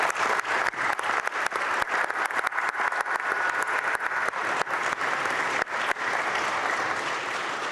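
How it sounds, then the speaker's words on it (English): Sustained applause fills the Texas legislature chamber as a large audience claps steadily for several seconds, dense and loud, with sharp individual claps standing out. "Let's give them an applause."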